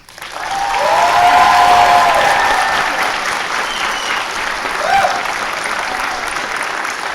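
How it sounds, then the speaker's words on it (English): Sustained applause from graduates and guests at a 2016 design school commencement ceremony, filling a large hall and swelling early before settling into a steady, slightly thinning round that continues to the end. "I call upon our graduates to give an enthusiastic round of applause and thank you to their families, friends, and teachers."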